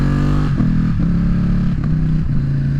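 A Ducati Streetfighter engine idles loud and close while warming up, a steady deep rumble with a few brief blips of the throttle.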